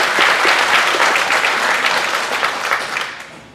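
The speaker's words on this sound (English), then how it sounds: "another round of applause before we exit" A room full of people applauds steadily, dense clapping that gradually tapers off near the end.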